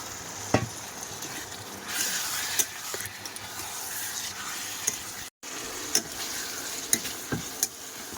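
Close, steady sizzling of vegetables and potatoes frying in a pan, punctuated by scraping and clinking as it is stirred; no voices.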